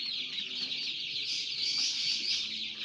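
Joper kampung chickens in a brooding pen clucking and chirping at day 17 of rearing, a steady dense flock murmur throughout with no talk.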